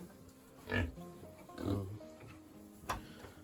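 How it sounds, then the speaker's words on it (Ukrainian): A few low, grunting snorts from a pig on a farm, spaced over a few seconds, close and fairly loud, with short pauses between. "А ну хрюкні що небудь"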